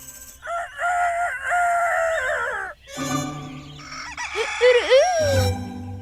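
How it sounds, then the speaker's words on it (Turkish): A rooster crows loudly nearby in a long drawn-out call, followed by a second rising, warbling crow. "Sabah olduğunda horoz bağırır."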